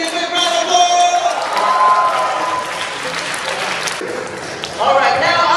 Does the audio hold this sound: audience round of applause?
yes